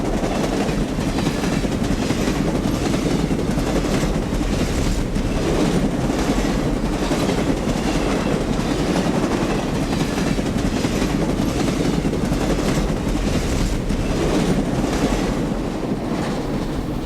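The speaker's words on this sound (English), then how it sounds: "GP9M number 1355 leads this eastbound freight over the Great Northern's former main line east of Wayzata" A GP9M diesel locomotive, number 1355, leads an eastbound freight train along the former Great Northern main line east of Wayzata, Minnesota. The heavy rumble and rail noise is loud and steady throughout, with faint rhythmic clatter.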